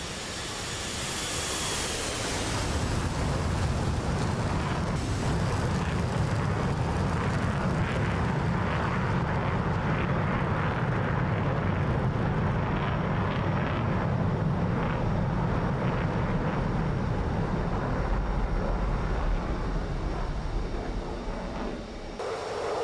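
An aircraft rolls down a runway and takes off in the DCS flight simulator during a 1978 surprise-attack mission, a loud steady jet roar that swells after the first couple of seconds and holds for the whole take-off run, with no voices.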